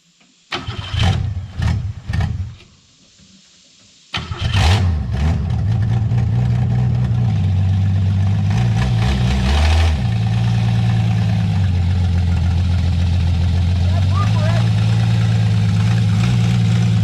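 An abandoned 1966 Ford Mustang engine cranks in a few loud bursts, pauses, then catches and roars to life before settling into a loud, steady, slightly uneven idle up close.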